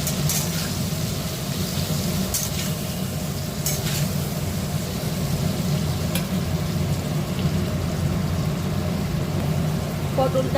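Pointed gourd frying in oil with a little turmeric and salt, giving a loud, continuous crackling sizzle with occasional brief scrapes of stirring throughout.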